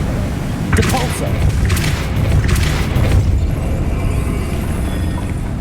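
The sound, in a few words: Depulso spell cast in Hogwarts Legacy video game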